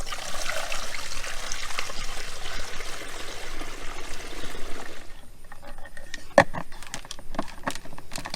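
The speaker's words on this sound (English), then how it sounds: "I'm going to just start filling up the tank." Liquid fertilizer pours through a funnel into a tank, a continuous splashing trickle that cuts off partway, followed by a few sharp plastic clicks and knocks nearby.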